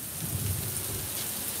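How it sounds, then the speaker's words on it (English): Rain heard from inside a workshop, a steady close wash of drops drumming on surfaces with a low rumbling undertone, brief and continuous without talk. "Can you hear that rain?"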